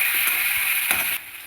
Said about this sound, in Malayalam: ഇത് മൂത്ത് വരുന്ന സമയം ഇഞ്ചിയും വെളുത്തുള്ളിയും ഇട്ട് ഒന്ന് മൂപ്പിക്കുക.